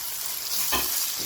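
Salt being stirred into simmering daal, a short scrape and swish rising briefly mid-clip over a steady low sizzle-like hiss.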